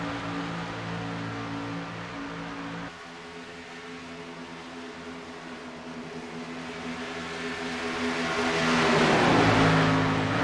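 Race car engines in a sim racing game at Auto Club Speedway, a sustained mid-pitched roar that dips briefly, then swells with a rising whine as another car closes in near the end.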